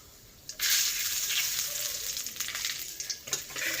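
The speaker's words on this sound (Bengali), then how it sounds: "এবার আমি দিয়ে দেব হচ্ছে এই যে সাদা জিরে, শুকনো লঙ্কা, একটা তেজপাতা, একটু গোটা গরম মশলা" Cumin seeds, dried chilli, a bay leaf and whole garam masala dropped into hot oil, bursting into a loud, steady sizzle after a quiet start, with crackles and pops throughout.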